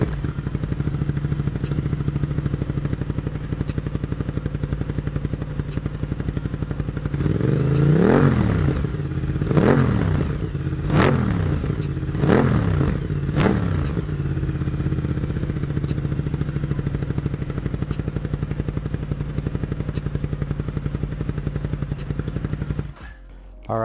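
Aprilia RS 660 sport bike with an SC Project exhaust, baffle installed, fires up over a steady low hum, then a series of about five sharp revs rise and fall in close succession before settling back to a quiet idle.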